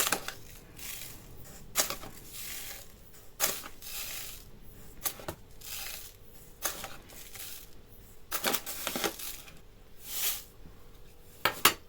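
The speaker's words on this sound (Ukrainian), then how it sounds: "Взбиваємо." Two eggs being whisked with sugar in a bowl, a series of sharp, irregular clinks and scrapes of the whisk against the bowl, some in quick clusters, over a quiet background.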